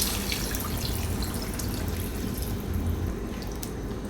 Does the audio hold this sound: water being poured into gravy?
yes